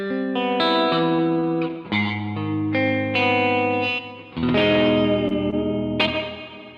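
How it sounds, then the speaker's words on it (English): An electric guitar through a hall reverb effect, with sustained, overlapping distorted chords whose notes ring on and blend into a wide, lingering wash, close and steady. "throw on this hall reverb"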